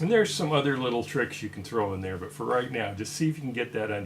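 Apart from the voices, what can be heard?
No distinct noise like a dog, phone or traffic.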